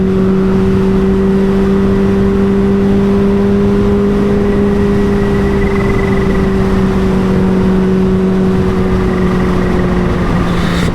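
A Kawasaki Ninja H2 supercharged motorcycle with a new exhaust pulls hard in first gear, a loud, steady high-revving engine whine holding a strong tone for about ten seconds, close and alone.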